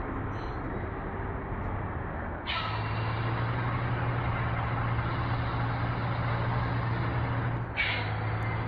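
A bus engine drones steadily at a low pitch while driving in the game Bus Simulator Indonesia, with two sharp hissing bursts like air brakes breaking up the constant rumble.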